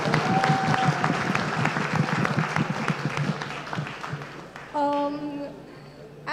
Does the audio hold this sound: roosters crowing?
no